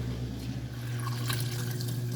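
A Haier HLP21N portable washer spins while draining, giving a steady low motor hum with gurgling water sloshing and trickling out, fairly loud and close, with no talk.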